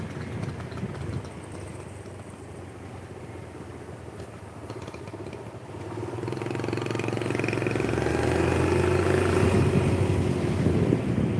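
A motorcycle engine hums steadily while riding along a road, with buffeting wind noise, the drone swelling louder and more sustained halfway through as the bike speeds up.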